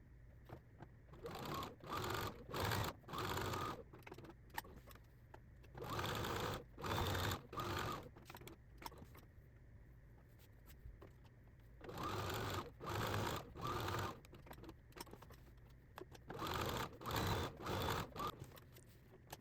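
A sewing machine quilting layered fabric through a walking foot runs in repeated bursts of steady stitching, with short pauses between runs, close and fairly quiet.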